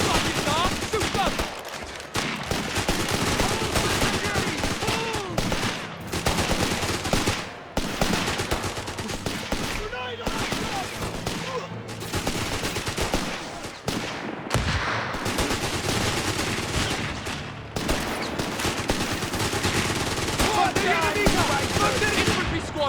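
Sustained bursts of machine-gun and rifle fire rattle almost nonstop in a Company of Heroes 3 battle, loud and dense with brief gaps, while shouted voices cut in now and then.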